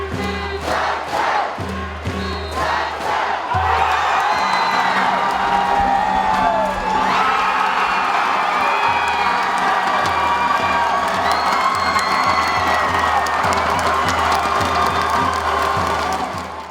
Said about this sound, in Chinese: 全场球迷热情欢呼